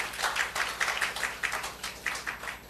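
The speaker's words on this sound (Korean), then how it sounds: "그렇게 해주실 하나님께 박수 올려드려요" A church congregation claps during a Sunday service, a scattered, moderately close patter of hands with irregular bursts, fairly quiet and brief.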